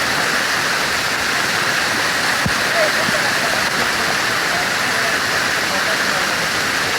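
Balamuri Falls near Mysore sends rushing water down in a loud, dense, unbroken roar that holds steady throughout, close and forceful, with no clear voices.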